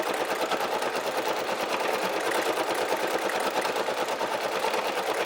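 A Brother SE1900 embroidery machine stitches an Easter basket design, its rapid needle chatter running loud and steady throughout without a break.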